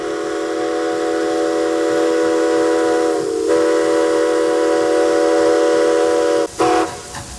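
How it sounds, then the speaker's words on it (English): A loud, sustained steam whistle sounds a steady multi-tone chord, briefly breaking twice, over the low rumble of a narrow-gauge steam train, Steam Engine 73 of the White Pass and Yukon Railroad, pulling vintage parlor cars through town. "Steam Engine 73 pulls the vintage parlor cars through town"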